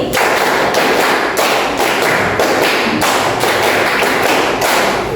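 A group claps hands in a classroom counting game, a steady run of crisp, loud claps grouped in threes, close by and continuous without voices.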